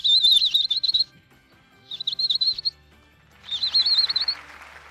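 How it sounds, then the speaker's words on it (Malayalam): Sparrows chirping together in three bursts of bright, rapid twittering separated by brief pauses, the last burst louder and busier, heard alone without talk. "എൻ്റെ കുരുവികൾ വട്ടം കൂടി നിന്ന് കരയുന്നതിൻ്റെ ഒരു ശബ്ദം"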